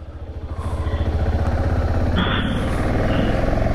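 A motorcycle engine idles close by at Plitvice Lakes National Park, Croatia, in autumn, its low rapid putter steady and rising slightly in level as it runs.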